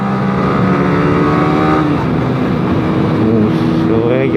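A loud motorcycle engine drones and roars continuously nearby, the pitch shifting as it revs past, with a voice faintly mixed in.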